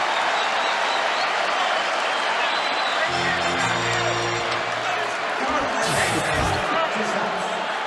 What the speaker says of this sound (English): And the crowd getting on its feet, cheering Carmelo Anthony.